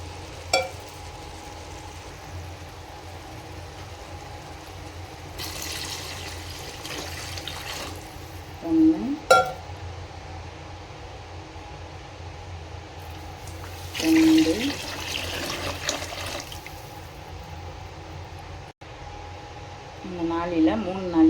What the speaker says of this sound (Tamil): இதில் ரெண்டரை நாளி தண்ணி ஊற்றிக்கிறணும்